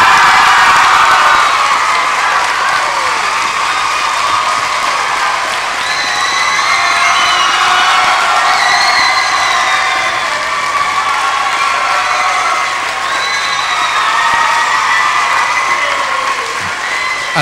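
A large school audience at a 2002 community school production of a stage musical claps and cheers loudly and continuously, with whoops and children's shouts rising over the sustained applause.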